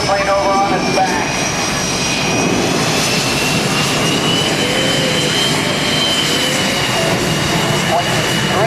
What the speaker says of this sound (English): He's going to roll the airplane over on its back.